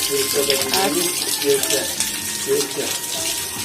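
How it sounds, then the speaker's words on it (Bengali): Water runs steadily from a household tap in a strong, close, continuous stream, with a voice speaking over it. "জল পড়ছে বলো জল হলুদ জল বলো তো আর বন্ধ করে দাও"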